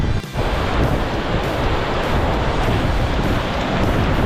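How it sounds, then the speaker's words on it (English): A raging torrent of water rushes on Pen y Fan in Wales, a loud continuous roar close to the microphone, mixed with gusting wind buffeting. "Bit of a raging torrent that"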